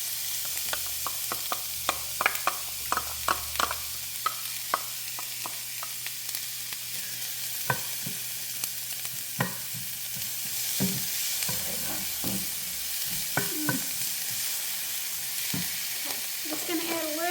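Chopped onion sautés in a pan with salt and pepper for a creamy one-pan pasta, a constant close sizzle broken by sharp spoon taps and scraping stirs, no talking.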